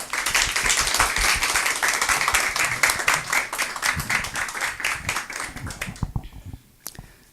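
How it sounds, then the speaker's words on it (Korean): An audience at a lecture claps warmly to welcome a professor, with dense close clapping that thins into scattered claps and dies away near the end. "뜨거운 박수로 한번 환영하겠습니다"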